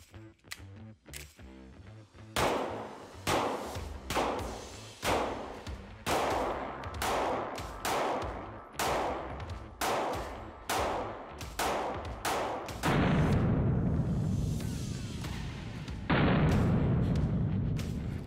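Springfield Armory Hellcat pistols firing at a shooting range, a steady series of loud, sharp shots at irregular spacing, followed by a denser run of rapid shots toward the end.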